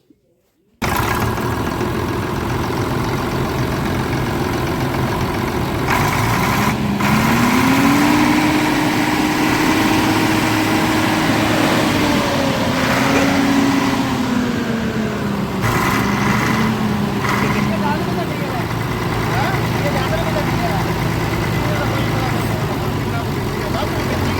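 A Preet combine harvester's engine runs with a faulty fuel pump and one cylinder not firing, giving a steady, loud idling drone throughout while people talk nearby.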